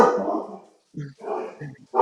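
Pit bull puppies bark and yip indoors in a few short close bursts, broken by brief pauses.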